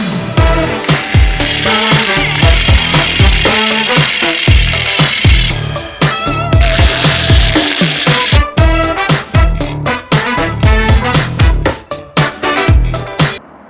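A brush scrubs weight plates being cleaned for painting: loud, close, rhythmic rasping strokes in quick repeated bursts, continuing without speech.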